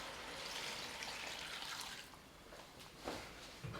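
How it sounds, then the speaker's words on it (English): Filtered water pours into a stock pot with bay leaves and peppercorns, a steady soft rushing splash that thins and gurgles toward the end, with no talk. "now we just want to fill that up with some clean filtered water"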